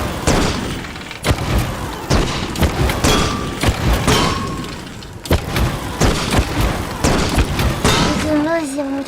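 Rockets firing at a target in a mobile video game, heard as a dense run of sharp booms and thumps repeating every second or so, loud and close, with a rising tonal whine near the end.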